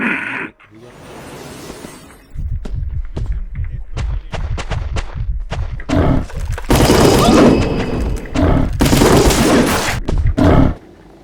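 Explosions and gunfire in the video game Wolfteam, with rapid thumping shots building into loud booming blasts and crackling bursts, dense and close, with voices talking over parts of it.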